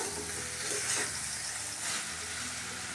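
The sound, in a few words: spice paste sautéing in a pan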